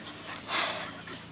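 Six-week-old European Basset Hound puppies pant close by, a soft rapid breathy rhythm swelling briefly in the middle, with no talking.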